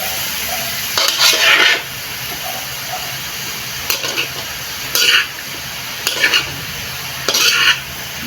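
Vegetables for pancit bato stir-fried in a pan sizzle steadily while a spatula scrapes and tosses them in several loud bursts of stirring, with no one talking.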